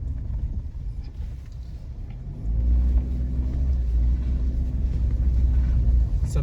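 A car drives slowly through the streets of Galina near Port Maria in St. Mary, Jamaica, its steady low engine rumble and road noise swelling louder partway through, with no one talking.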